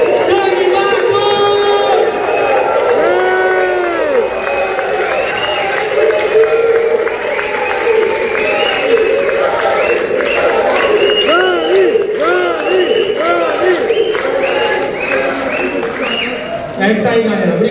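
A loud crowd at a metal concert in Santos cheers, whistles and applauds as a band member is introduced, a dense continuous roar with shouting voices layered on top throughout.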